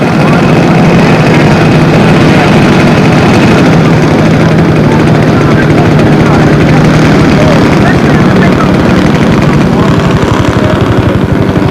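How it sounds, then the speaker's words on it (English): Two B-25 bomber engines run at once on a windy airfield line, a loud steady low drone with propeller throb and wind buffeting throughout, no pauses. "We got two B-25s going up at the same time here."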